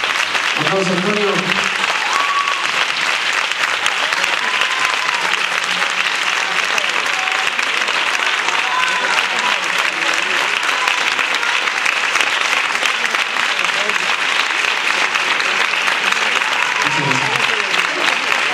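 Continuous crowd applause after a performance, loud and even throughout, a dense wash of many hands clapping with occasional voices rising faintly beneath it.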